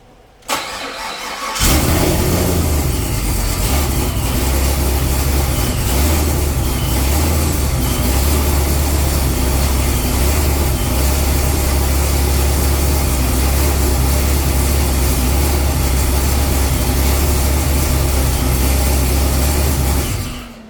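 A Procharged C7 Corvette V8 engine cranks and fires on its first start-up after cylinder head grinding, then settles into a loud, steady, rumbling idle close up for nearly twenty seconds before cutting off.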